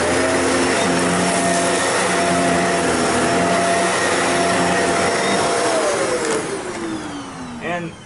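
A Shark APEX DuoClean lift-away vacuum cleaner runs on carpet with a loud, steady motor whine and airflow roar, its pitch sliding down near the end as it winds off.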